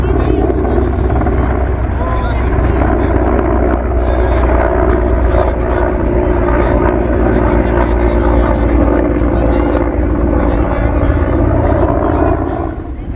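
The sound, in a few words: army helicopter circling overhead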